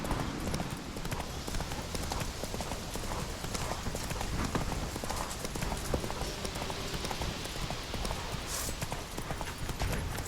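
Horse hooves pound in a fast, steady clip-clop gallop in The Witcher 3, loud and continuous throughout under dense game ambience.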